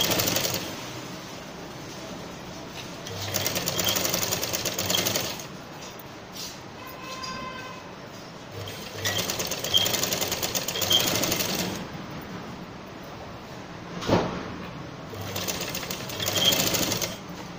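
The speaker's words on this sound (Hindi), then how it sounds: "जब हमारा राउंड वाला हिस्सा आता है तो हम किस तरह से इस पर सिलाई लगाते हैं।" Sewing machine stitching a baby's winter dress runs in several bursts of rapid needle chatter separated by short pauses, loud and close.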